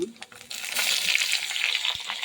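Chopped onion and grated coconut fry in a pan while being stirred, making a bright crackling sizzle with scraping spoon strokes over about two seconds.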